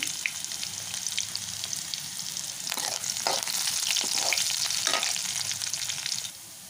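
Green chilli, chopped onion and curry leaves fry in hot oil with a steady, dense crackling sizzle, broken by a few louder pops and stirring scrapes, close and continuous before cutting down at the end.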